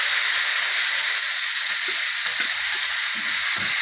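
Grated tomato frying with ginger and cumin in hot mustard oil in a wok, a loud continuous hissing sizzle with occasional soft stirring knocks.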